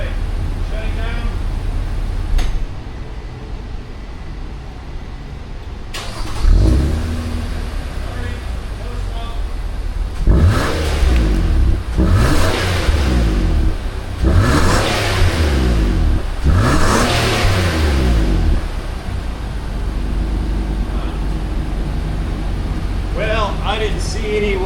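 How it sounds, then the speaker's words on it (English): A car engine with severe oil sludge from neglected oil changes is started and then revved several times, from a distance. The engine is audible from about six seconds on, with repeated surges rising and falling over a steady idle and some outdoor background noise. "I'll go in there and start it up and we'll rev it a little bit"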